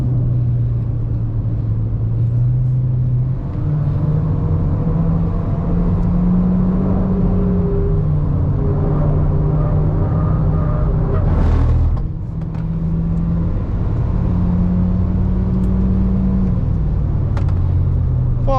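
A 2026 Proton S70 MC1 rated at 181 PS and 290 Nm laps the Sepang circuit, its engine a loud, continuous in-cabin drone that rises and falls through gear changes, with a brief dip midway.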